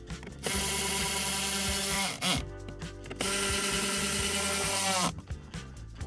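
Close mechanical whirring from a power driver running fasteners back into a vehicle dash during an on-dash Getac F110 mount install, two sustained bursts separated by a short pause, with small clicks and handling noises between.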